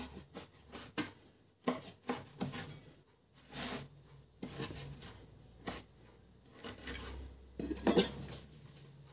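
A knife cuts food in a home kitchen with a series of irregular close knocks and scrapes against a board and dishes, some sharp and some dull, separated by short pauses.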